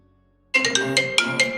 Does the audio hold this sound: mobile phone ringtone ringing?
yes